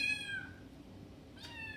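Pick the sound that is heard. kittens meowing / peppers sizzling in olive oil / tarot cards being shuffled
kittens meowing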